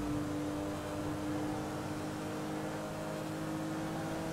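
A car engine in GTA Online drones steadily with a continuous hum and whir throughout, fairly faint and even, with no talking.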